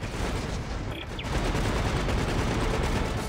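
Turrets fire in Dead Space 3, a dense continuous barrage of gunfire that fills the whole clip, loud and close, with a brief dip near the one-second mark.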